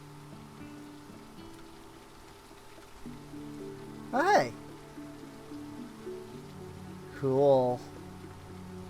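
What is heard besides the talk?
rain falling in video game Teddy's Haven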